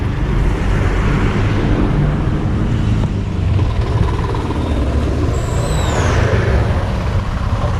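Vehicles pass close by on a highway in Kerala, heard from a moving vehicle as a steady loud broadband road and wind rush with a brief high whistling tone near the end.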